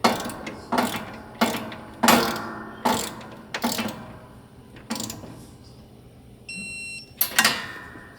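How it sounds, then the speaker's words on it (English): A torque wrench ratchets as it tightens the pump bolts on a Rotax mini jet boat, with sharp repeated clicks about once per second, close and loud, followed by a brief electronic beep. "Then we'll get out the torque wrench and torque these to 18 foot-pounds."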